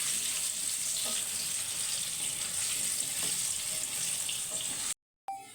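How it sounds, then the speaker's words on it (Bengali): Potatoes frying in hot oil in a kadai: a continuous, close, hissing sizzle with small pops for about five seconds before it cuts off abruptly. "আলুটা ভাজা হোক।"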